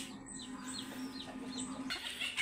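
Chinese chicken breeder hens and roosters on a farm give soft, steady clucks and faint chirps that carry on through the whole span, with a small lift in busy calls near the end.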